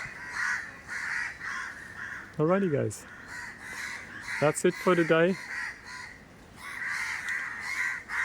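Crows caw repeatedly in loud, steady bursts throughout, while someone speaks briefly over them in two short phrases partway through.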